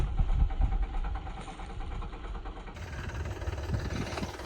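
A tractor engine runs steadily in a farm field while covering sown mung beans with soil using an attached implement, a continuous close, loud low rumble with a slight idling chug throughout.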